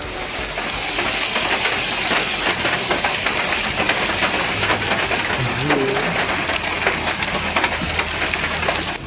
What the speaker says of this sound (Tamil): கர்நாடக மாநிலம் தார்வத் மாவட்டத்தில் திடீரென பெய்த ஆலங்கட்டி மழையால்